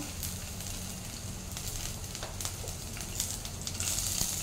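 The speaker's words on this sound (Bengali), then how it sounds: "প্রথমে আমি রসুনটা দিয়ে দিচ্ছি, তারপরে আমি দিয়ে দিচ্ছি কাঁচা লঙ্কা" Garlic and green chilies hit hot oil in a pan while making ema datshi, a steady close sizzle and crackle running throughout with a few brighter pops, no talking.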